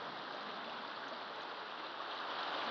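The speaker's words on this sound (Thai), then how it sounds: "ถ้ายังนั่งอยู่ที่ลำธารน้ำที่ฟินแลนด์นะ" A flowing stream in Finland runs steadily with a broad, even rush of water, close and continuous throughout with no voices.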